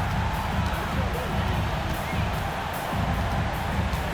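Home crowd in the NBA 2K26 basketball video game roars steadily through a late fourth-quarter moment, a dense continuous wash of cheering with no breaks, heard close and full.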